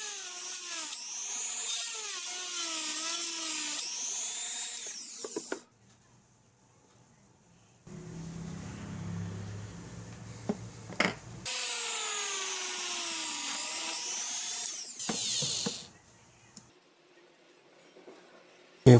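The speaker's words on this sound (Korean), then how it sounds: "구멍을 이제 다 양쪽에 뚫어줬으니까요" Small power drill boring holes into both sides of a resin orc wolfrider statue to take brass rods, two sustained whining runs of several seconds separated by quieter handling and knocking, close and alone without talk.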